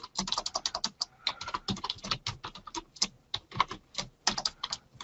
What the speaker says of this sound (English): So I can just type it in, save it, and then it's there.